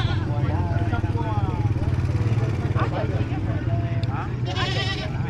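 Goats bleat at a crowded highland market in the northwest mountains, a few calls rising over constant chatter and a passing motorcycle; people talk throughout.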